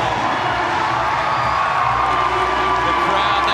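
A swimming arena crowd in Melbourne cheers Lani Pallister's Australian record at the 2022 short-course World Championships, a loud, sustained roar of voices and whoops that fills the whole stretch without letting up.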